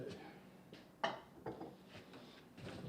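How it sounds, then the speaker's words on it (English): A bowl scraper scrapes biscuit dough from a spoon and mixing bowl, a few soft knocking and scraping contacts at irregular intervals, close and fairly quiet. "We're going to take our bowl scraper. I'm going to scrape down the spoon."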